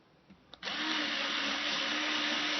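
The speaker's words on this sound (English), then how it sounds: "So now I'm going to get another bigger drill and keep sizing up the drill" A power drill starts up and runs steadily at high speed while enlarging a hole in the body of a Kala 8-string baritone ukulele. It is a continuous, close whirring after a couple of soft clicks.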